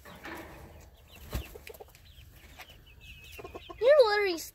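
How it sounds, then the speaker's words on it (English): A chicken clucks near a copperhead snake, with scattered low clucks and faint movement, then one loud, close, squawking call at the end. "You crazy ass chicken."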